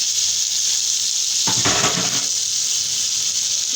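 Peas tipped into a hot pot for aloo matar pulao, setting off a sudden burst of sizzling over a steady hiss of frying, close and fairly loud, no speech.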